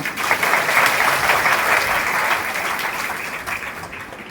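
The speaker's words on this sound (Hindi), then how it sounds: "आप लोग श्वेत वस्त्रों में संत हैं, तो अपने लिए आपके लिए ताली तो बनती है ना" A large audience at a saints' gathering in Haridwar breaks into sustained applause, dense and loud at first, then gradually thinning and fading toward the end.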